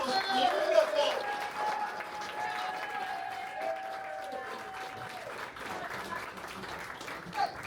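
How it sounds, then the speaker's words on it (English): An audience claps steadily in sustained applause, fairly quiet and diffuse, with a voice talking faintly over it. "Round of applause to all of them."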